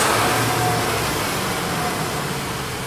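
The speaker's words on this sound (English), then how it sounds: "This requires the engine to idle as vacuum is necessary to run the LDP pump." A Chrysler engine idles steadily during an EVAP leak detection pump test, a constant low hum and broadband whir with no revving, close and loud, with no talk.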